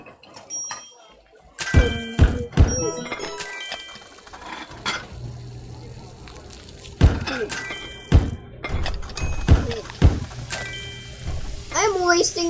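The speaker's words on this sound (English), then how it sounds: "I'm wasting a lot of time just putting stone down." Stone blocks are placed one after another while building a diner in a block-building video game, making a series of dull thunks and knocks, with voices talking over and between the placements.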